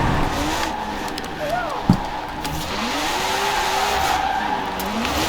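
A 1990 Porsche 911 in Forza Horizon 4 slides sideways, its engine wailing and rising and falling in pitch with tyre noise under it, while someone talks over the driving.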